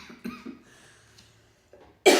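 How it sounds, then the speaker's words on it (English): A single person coughs a few times, hoarse and close, between short breathy throat sounds, then a loud burst of cough or throat clearing at the very end. "I've been fighting this cough"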